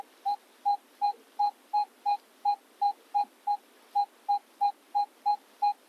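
A Minelab X-Terra Elite metal detector sounds a repeating target tone: about sixteen short, identical beeps at an even pulse, clear and close against near-silence.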